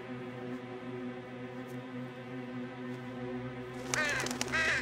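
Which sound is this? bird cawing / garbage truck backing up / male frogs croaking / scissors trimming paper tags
bird cawing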